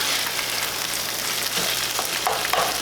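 Garlic fries in a hot pan for Japanese-style fried rice, a steady bright sizzle with faint stirring scrapes and crackles toward the end, close and continuous.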